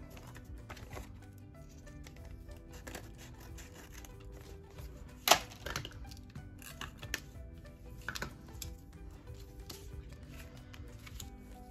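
Scissors trim leftover doily paper along the side of a paper bag, giving quiet scraping and rubbing with a few sharper snips and rustles, close and faint.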